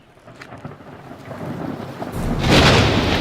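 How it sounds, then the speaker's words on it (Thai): A great storm at sea with rain and wind building steadily and a heavy roll of thunder swelling up loudly in the last second, with no voices. "เกิดมีพายุใหญ่ พวกสาวกย่านว่าเรือจะล่ม บ่เคยพบพายุใหญ่ขนาดนี้เลย"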